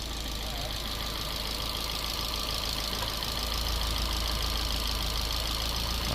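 A 2012 Fiat 500 engine running steadily nearby, a continuous even mechanical drone and hum with no breaks and no talking.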